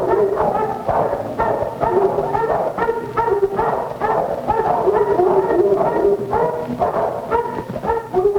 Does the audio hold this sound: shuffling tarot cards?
no